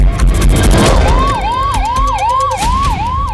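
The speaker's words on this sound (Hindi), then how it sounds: "मोदी के रास्ते से एम्बुलेंस गुजरती है तो मोदी रुक जाते हैं, एम्बुलेंस को रास्ता देते हैं।" An ambulance siren wails loudly and close, its rising-and-falling tone repeating over traffic noise as the vehicle passes along a road cleared for it.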